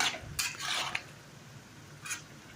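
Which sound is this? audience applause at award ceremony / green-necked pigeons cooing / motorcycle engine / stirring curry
stirring curry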